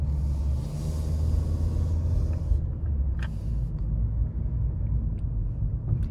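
A 2020 Nissan Kicks driving smoothly, heard from inside as a steady low road rumble and engine hum, continuous and moderately loud with no talking.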